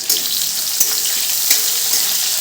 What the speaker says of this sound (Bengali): দেখো তেলের মধ্যে দিয়ে দিলাম জিরে গোটা শুকনো লঙ্কা আর দিয়ে দিলাম কিছু পেঁয়াজ কুচি